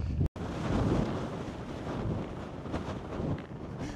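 Strong wind buffets the microphone on an exposed mountain where a tent pitch is being sought, a loud, continuous roaring rush with gusty swells and a brief dropout near the start.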